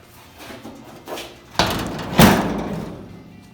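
A driver's door closed on an old 1950 Dodge Power Wagon truck under cab repair, two heavy metallic thumps in quick succession, close and loud, with softer knocks before them.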